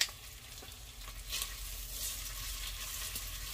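Bacon frying in a soup pot, giving a steady close sizzle with faint stirring scrapes and a few soft clicks, no voices.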